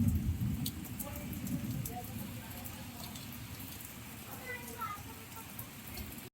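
Steady rain patters on surfaces, a dense continuous hiss with scattered drips, and a few faint birdlike chirps in the background.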